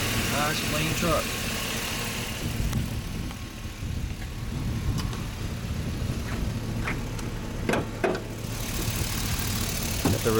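A 2007 Chevy Silverado 4x4 with a 5.3 Vortec V8 idles steadily at close range, a low even rumble with a few brief clicks, while people talk over it.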